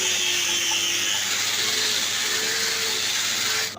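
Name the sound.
power sanding machine on wooden door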